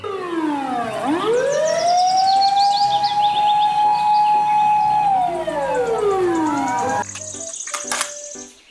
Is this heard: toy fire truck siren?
yes